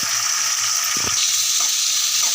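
Onion, curry leaves and tomato being stirred together in a hot pan for Avarekalu upittu, with a steady loud sizzle and a few soft scraping stirs, no talk.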